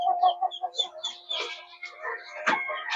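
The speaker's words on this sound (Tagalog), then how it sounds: "Yan yung ating mga manok." Chickens clucking and cackling nearby in a steady, busy stream of overlapping calls, with one sharper squawk toward the end, on a farm.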